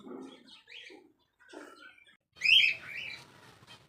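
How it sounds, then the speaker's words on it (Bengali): Several birds chirp and call in short bursts separated by brief pauses, ending in a louder, sharper flurry of tweets nearby. "পাখিগুলো হঠাৎ করে জোরে জোরে ডাকছিল"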